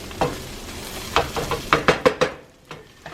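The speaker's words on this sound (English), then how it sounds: "We're gonna allow some of that tomato paste to kind of caramelize" Tomato paste caramelizes in a pot with seasonings and vegetables for homemade chili, giving a soft, steady sizzle broken by a series of spoon-stirring scrapes and knocks.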